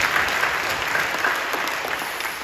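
Church congregation applauding at an early-morning Holy Week prayer service, a continuous even patter of many hands clapping, full and fairly loud throughout, with no voices over it.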